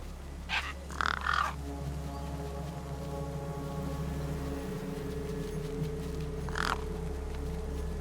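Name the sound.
crows cawing over a corpse in the video game Beyond a Steel Sky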